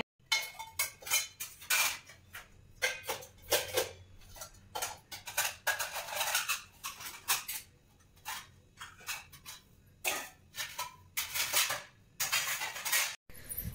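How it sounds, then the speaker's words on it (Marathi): Dishes and utensils being stacked and put away in a home kitchen, a long busy stretch of close clinks, taps and clatters in quick irregular bursts, with no voices. "सो चला आता भांडी वगैरे लावून घेते."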